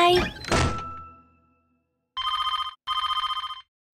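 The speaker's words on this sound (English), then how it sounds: "Phone call from a stranger!" A heavy thunk and a fading rumble give way to a cartoon telephone ringing in two rapid, trilling electronic bursts, loud and close, with a short pause between the rings.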